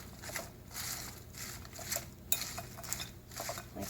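A fork stirs a spinach and lettuce salad with cheese and a drizzle of olive oil, producing soft, continuous rustling and scraping with light clinks of metal against the bowl, fairly faint and close, with no talking.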